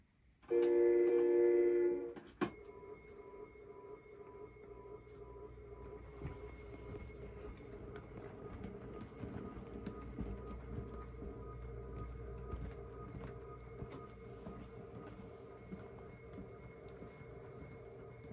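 A train backing up passenger coaches rumbles and creaks slowly along the rails after a loud horn-like blast at the start, with steady low mechanical noise and occasional clanks.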